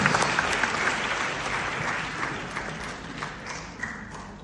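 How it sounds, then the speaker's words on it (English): Audience at a dance showcase applauding a performance, a loud, continuous wash of clapping from a large crowd that holds steady and trails off slightly toward the end. "let's give another round of applause for that wonderful, wonderful, wonderful performance"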